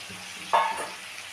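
Fried cauliflower drops into a pan of winter vegetables with slit green chillies. It gives one sudden scraping sizzle that fades within half a second against a low background hiss.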